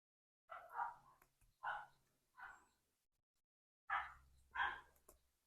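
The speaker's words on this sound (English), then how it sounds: "the dogs are outside and they're barking and having a big old time out there" Several dogs barking outdoors in a few short bursts, heard at a distance and fairly faint, with quiet gaps between the barks.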